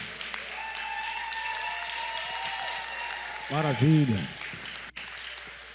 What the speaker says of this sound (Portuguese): uma salva de palmas para a Kelly aí